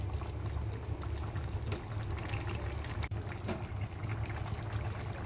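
Ghee poured into a pot of Bengali sukto curry, giving a continuous soft liquid pouring and trickling sound over a low steady background hum, with no talking.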